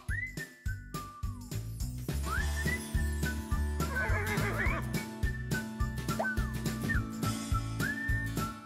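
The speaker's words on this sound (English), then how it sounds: "Gentry and Poncho are miniature horses" Miniature horses being given a bubble bath neigh and whinny, several rising and falling whinnies over a rhythmic jingling musical backing.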